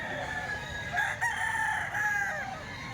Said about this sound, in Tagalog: Manok ni Boss Albert to